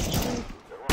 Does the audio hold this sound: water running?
no